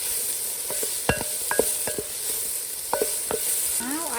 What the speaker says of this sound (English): And just mix it all together again.